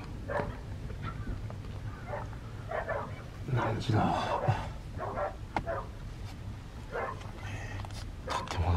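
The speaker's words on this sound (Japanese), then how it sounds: "すげえ吠えてんだ犬は。" A dog barks repeatedly in short, irregular bursts at a moderate distance against a low background hum, and a voice briefly speaks once.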